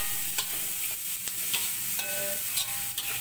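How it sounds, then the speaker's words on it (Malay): Bitter gourd, egg and chili stir-fry in a hot pan with a steady close sizzle, punctuated by repeated scraping and clinking strokes of a spatula at an uneven rhythm. "Okey, kita tumis ni. Memang agak menyengat hidung."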